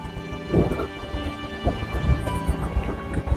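Steady rain falls outside a Chinese garden, a continuous wash of drops with occasional low rumbles mixed in, fairly close and uninterrupted, with no voices.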